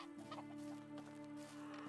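Chickens cluck softly in a farm pen in the video game Medieval Dynasty, faint clucks scattered over a steady hum of game music and ambience.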